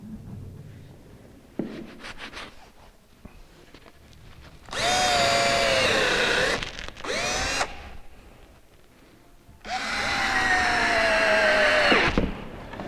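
A power drill drives screws to fasten the back bridge of a wooden cross cut sled, with two long high-pitched whirring bursts and a shorter one between them, close and loud, with quieter handling noises in the gaps.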